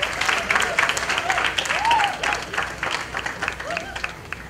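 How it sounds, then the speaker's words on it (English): Graduates at a high school graduation ceremony applaud in a dense, steady wave of clapping, with a speaker's voice carrying over it on a sound system. "Give yourselves now, graduates, a round of applause."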